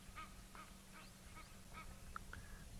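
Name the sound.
Egyptian geese honking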